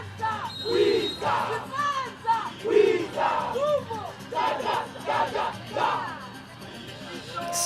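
A crowd at a youth games volleyball match with Namibia playing, rising in repeated loud whoops and chanting cheers in waves, close and lively.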